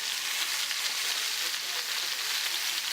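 Chicken pieces hit a hot pan, giving a bright, hissing sizzle that stays steady and close for a few seconds without pause or talk.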